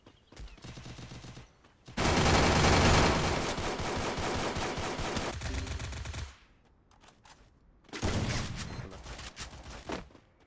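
Bursts of automatic gunfire from the battle-royale video game Free Fire, a short volley followed by a long, loud sustained barrage and another burst after a brief lull.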